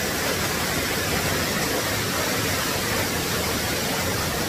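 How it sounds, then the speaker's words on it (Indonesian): Krisik waterfall in Bali roars as a dense, unbroken wash of falling water, loud and even throughout, with no voices. "Akhirnya kita turun dan ini adalah air terjunnya guys. Air terjun Krisik."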